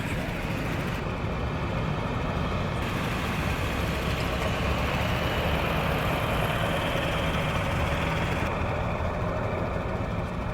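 Cars, Jeeps and trucks rolling through a car show cruise, a continuous loud rumble of engines idling and passing nearby with steady outdoor noise and no clear talking.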